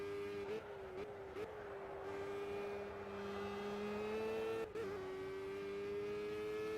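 Formula Gulf 1000 race car in Project CARS at Road America, its engine holding a steady high-pitched drone near full throttle with brief dips as the throttle lifts, loud and continuous with no talk.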